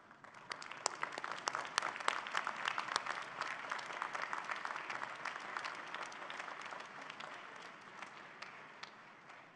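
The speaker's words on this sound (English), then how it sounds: "give them a warm round of applause for supporting your journey" Applause at a university graduation convocation, a broad crowd of graduates clapping for family and friends, with sharp individual claps standing out over a sustained, moderately distant roar that fades slightly toward the end.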